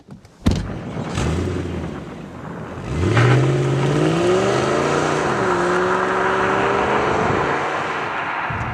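A Volvo S80 with a V8 engine, about 149,000 miles on it, starts with a sharp burst, idles briefly, then revs up and pulls away, its deep engine note climbing and holding steady through the gears as it drives along a road.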